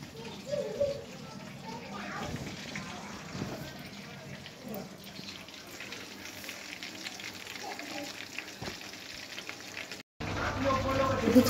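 Chicken pakoda mixed with coriander leaves deep-fries in hot oil, a continuous crackling sizzle at moderate level, with voices talking over it and a brief dropout near the end.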